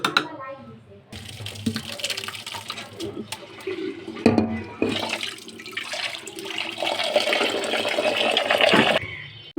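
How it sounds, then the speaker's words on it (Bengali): Water pours and splashes steadily from a pot of boiled rice into a sink nearby, a continuous gushing stream. "ভাতটা ফুটে গেছে আমরা এখন এর পানি ঝরাবো"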